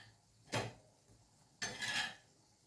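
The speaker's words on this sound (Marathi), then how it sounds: "तर हे आपण थालीपीठ काढून घेऊया" Cooked thalipeeth flatbread lifted from a pan: two quiet metallic scrapes of a spatula against the pan, the second longer, in an otherwise near-silent kitchen.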